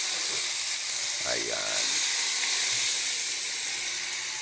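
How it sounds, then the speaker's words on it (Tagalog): Green beans (bitwelas) hitting a hot pan for a northern-style sauté set off a loud, steady sizzle and hiss that runs throughout, with a brief spoken word near the start. "Pag ganyan na, is pwede na po natin ilagay itong ating bituelas."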